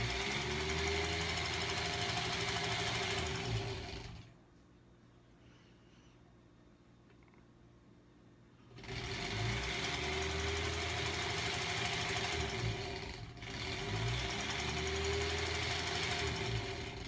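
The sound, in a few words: sewing machine sewing quilt strips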